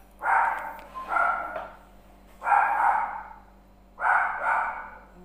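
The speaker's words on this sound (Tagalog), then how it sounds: "yung aso namin nakakita ng aso sa labas" A pet dog barks at another dog outside, four loud close barks in two-syllable bursts spaced about a second apart, with a steady low hum underneath.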